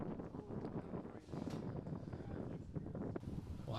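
Steady wind gusting across an open disc golf course during a tournament round, a continuous broadband rush that swells and buffets the microphone, with a commentator talking over it.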